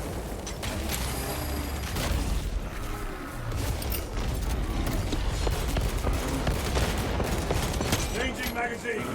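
A dense, continuous battle din from the video game Space Marine 2, with gunfire and booming blasts that could include a frag grenade explosion. Talk runs underneath.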